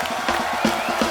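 Studio audience on a Hindi comedy talk show claps and cheers loudly for guests Sunny and Bobby, a brief, close burst of rhythmic clapping with whoops over it.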